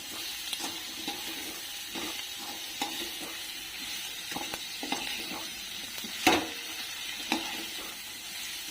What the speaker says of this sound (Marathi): बटाटा चिरलेला टाकायचा ती पण परतून घ्यायचा चांगला